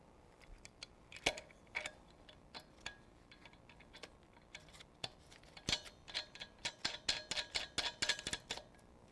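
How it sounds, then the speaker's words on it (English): A Pioneer balloon inflator is screwed by hand onto a gas tank's threads, making sparse, sharp metallic clicks and ticks that grow quicker and denser toward the end, quiet and with no talk. "Just line up the threads and screw it on until it's tight."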